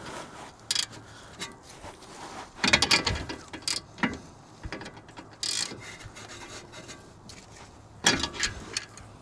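A ratchet tightens a bolt on a BMW 1 Series suspension arm, giving several short clicking bursts at close range with scraping and clunks between them.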